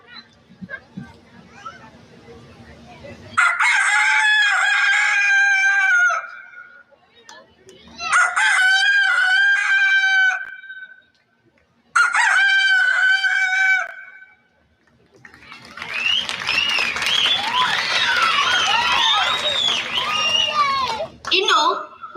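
A man on stage imitates a rooster crowing as part of a comic animal-mimicry act, voicing three loud cock-a-doodle-doo calls with pauses between them, then a longer, busier crowing burst near the end.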